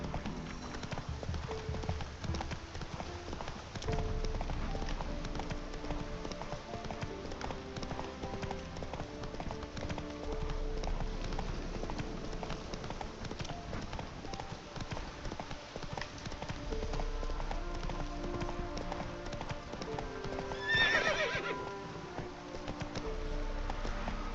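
Steady, rhythmic hoofbeats of the horse Roach moving across the ground in The Witcher 3, a continuous clip-clop that carries all the way through, with a brief swell of higher noise near the end.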